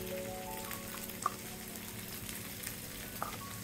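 Turmeric and chili powder sizzle quietly in hot oil, a soft continuous frying crackle with a couple of sharp pops, no voices.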